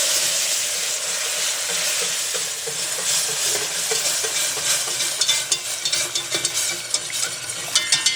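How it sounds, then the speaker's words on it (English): A flour and butter roux sizzles and bubbles steadily in a pan, close and constant, with sharper crackles and pops growing toward the end and no voices. "I'm kind of just looking for it to start to bubble"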